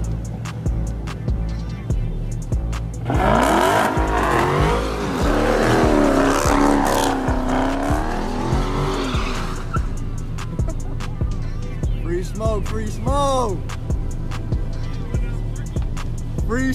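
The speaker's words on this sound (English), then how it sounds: "I did my little donuts, you know what I'm saying? My little donuts for the night." A fast BMW spins late-night donuts, its engine droning and revving in rising and falling sweeps while a broad tire-squealing roar swells loudly through the middle, then eases back to revving and throbbing idle.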